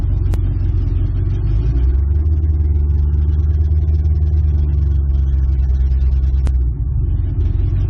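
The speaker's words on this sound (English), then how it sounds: "I can hear the Supercharger blowing air." A supercharged 1959 Studebaker Silverhawk on the move, its engine giving a steady loud low rumble with a faint airy whine from the supercharger above it, and two brief sharp clicks along the way.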